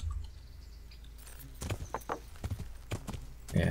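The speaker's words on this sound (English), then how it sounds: "Let's call our horse." Summoned horse arriving in the Kingdom Come: Deliverance video game, a series of hoof clops growing closer with a louder snort or movement at the end, over a low ambient rumble.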